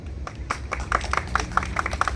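Crowd at a Seoul education superintendent candidate's press conference claps in a rhythmic, fairly even beat, a modest group applauding in a room with a low hum underneath.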